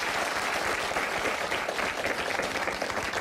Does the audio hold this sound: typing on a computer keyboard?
no